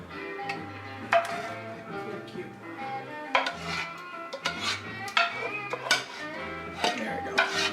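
A spoon scrapes and clinks against pans while leftover cheese sauce is spread over lobster mac and cheese, giving irregular close metallic taps and scrapes over a low background.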